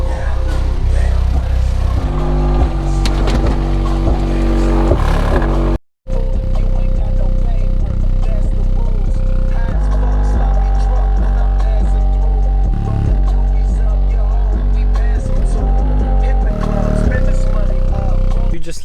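A Kicker subwoofer driven by a plug-and-play amp plays music in an Acura TL, a loud, booming low-end thump with steady beats filling the cabin, briefly cutting out once partway through.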